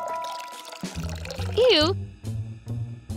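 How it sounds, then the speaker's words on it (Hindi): A short burst of water being poured to water something, heard briefly in the middle among cartoon-style music and sound effects. "ओह मुझे इसे पानी देना होगा"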